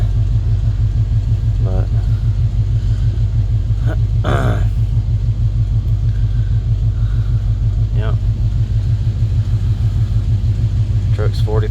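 A 1981 Chevrolet C10 truck idles right after startup, its engine giving a steady, close, low rumble throughout while someone talks over it.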